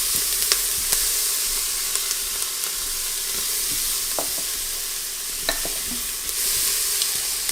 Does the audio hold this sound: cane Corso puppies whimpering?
no